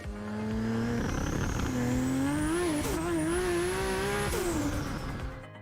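A car with a Toyota 2JZ engine revs hard, its pitch climbing and wavering through sustained high-rpm pulls, loud and close with a faint tire squeal and no talking.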